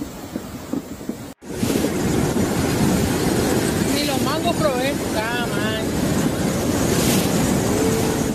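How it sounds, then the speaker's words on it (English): Flash-flood water gushes down a road in the coastal town of Santa Rosalia, Baja California, during Hurricane Hilary: a loud, continuous roaring rush after a brief cut, with wind buffeting and faint voices or whistles over the torrent. "flash floods in the coastal town of Santa Rosalia on the eastern side of Baja California Peninsula, with water gushing down what used to be a road"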